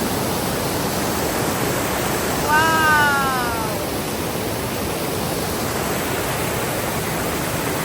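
A stream and waterfall rush in a steady, loud wash of flowing water, with a person's voice briefly exclaiming over it.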